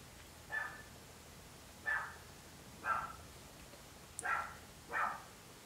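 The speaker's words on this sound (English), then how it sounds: "Sorry about the dogs." Dogs barking somewhere in a house during a makeup session, five separate barks spaced about a second apart, distant and muffled against a quiet room tone.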